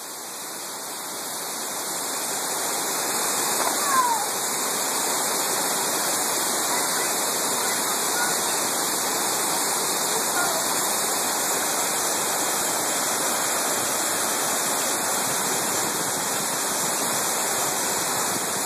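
A waterfall at The Basin in New Hampshire rushes in a constant, dense wash of white noise that swells slightly at the start and then holds steady and loud, with no talking.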